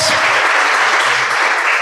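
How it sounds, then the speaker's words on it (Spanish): Loud, close applause from a church congregation clapping for the Lord, continuous and dense, with a low voice murmuring underneath. "denle un aplauso al Señor"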